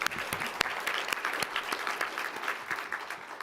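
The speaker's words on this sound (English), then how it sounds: "Give yourselves a round of applause." An audience at an advocacy summit claps in steady, dense applause with sharp individual claps standing out, moderately distant and with no voices over it.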